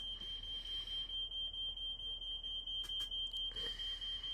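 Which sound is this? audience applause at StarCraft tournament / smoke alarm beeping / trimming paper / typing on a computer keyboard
smoke alarm beeping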